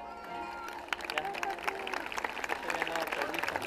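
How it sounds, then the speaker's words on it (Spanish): A crowd at a live performance by a band applauds, a dense spatter of clapping that builds and rises over a few seconds, mixed with murmuring voices. "Gracias, gracias por los aplausos."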